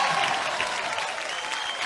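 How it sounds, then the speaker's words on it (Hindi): A studio audience at a comedy show applauds for Parineeti, a dense, steady wash of clapping that holds at full strength throughout. "परिणीति के लिए एक बार जोरदार तालियां हो गए"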